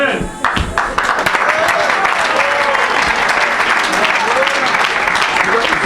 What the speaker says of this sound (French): Acclamez-le!